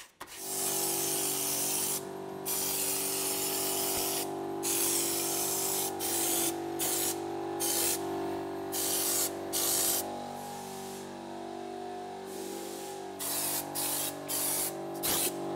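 An aerosol can sprays rust protector onto a rusty vehicle panel in a workshop, a steady close hiss running for most of the stretch and broken by several short pauses between bursts.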